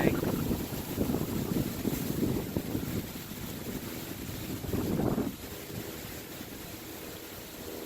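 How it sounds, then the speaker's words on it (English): Wind buffets the microphone inside a moving car in low, rumbling gusts that rise and fade, close and steady, with no talking. "It's so windy today."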